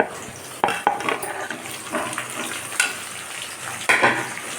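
Tomato and shallots sauté in hot oil in a pan while goat liver fry is being made, giving a steady close sizzle broken by repeated scraping and clinking of a stirring spoon.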